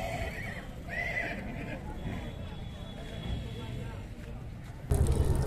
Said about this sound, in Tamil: அந்த சைடில் குதிரைகள் இருக்கு